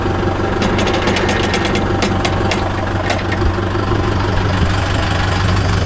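A Mahindra Yuvo Tech Plus 585 4WD shuttle-gear tractor runs with its 42-blade rotavator attached, a loud, steady diesel drone with rough knocking and light metallic clatter close by.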